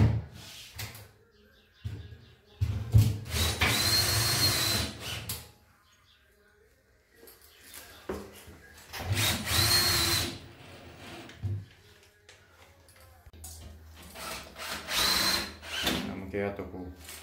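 Power drill driving screws into green moisture-resistant drywall board during a bathroom fit-out, in several loud bursts of whirring separated by short pauses.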